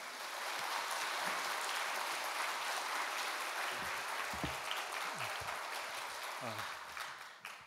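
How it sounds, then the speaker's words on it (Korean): A church congregation applauds to welcome a pastor to the pulpit, a steady dense wash of clapping that fills the room, with a few voices and brief sounds breaking through near the end. "박수로 모시도록 하겠습니다"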